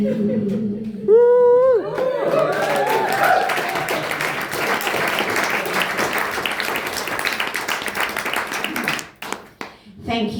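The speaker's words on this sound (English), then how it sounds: "Thank you for applauding" An audience at a one-night-only show in Hitchin breaks into sustained applause, with a whoop and cheers near the start and clapping that fades toward the end, loud and close.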